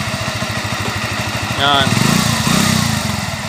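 A Suzuki Shogun Pro 125 motorcycle engine runs rough with a steady, uneven chugging pulse close by, and someone talks briefly over it.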